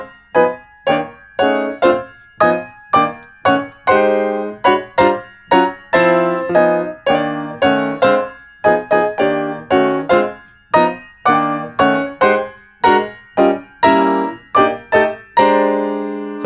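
Jazz chords outlining the rhythm changes progression, struck in a steady, bouncing pattern of repeated chord hits, loud and alone with no talk.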